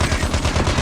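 Short burst of rapid automatic machine gun fire in the mobile shooter game Call of Duty Mobile, loud, dense and continuous, with no talking.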